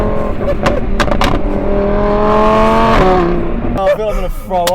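A 640 hp facelift Audi R8 V10 with Milltek exhaust accelerates hard, the engine note climbing loud and close through a gear change, then rasping and crackling as people's voices join in over the engine.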